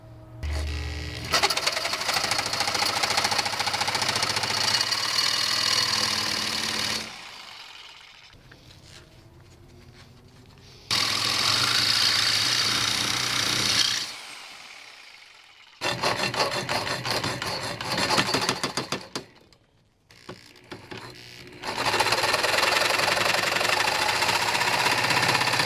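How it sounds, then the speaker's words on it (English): A Sawzall reciprocating saw cuts through part of a Schwinn Meridian e-trike, loud and close, in several long buzzing bursts broken by short pauses. "Actually, it just occurred to me my Sawzall will do just fine."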